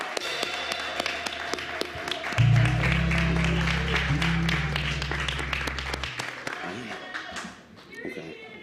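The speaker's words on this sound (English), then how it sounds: "Round of applause for Dennis Eade." An audience claps in appreciation for Dennis Eade at a community service recognition gathering, steady scattered applause throughout, joined midway by a loud low hum.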